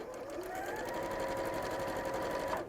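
A domestic sewing machine running a straight stitch, an older, well-worn machine: a steady, continuous mechanical whirr with a rapid needle rhythm, close and fairly loud, holding evenly for nearly three seconds before stopping.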